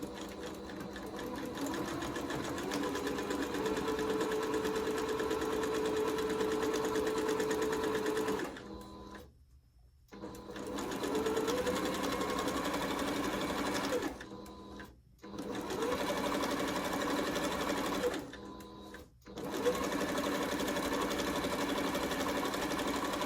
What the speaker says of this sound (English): straight stitch right at an 1/8 all the way down